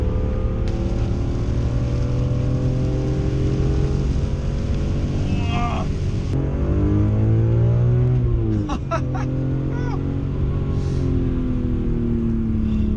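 A BMW E46 M3's engine pulls hard under acceleration, its loud tone sweeping upward through the revs, dipping briefly at a gear change around the middle and then climbing again, with no talking.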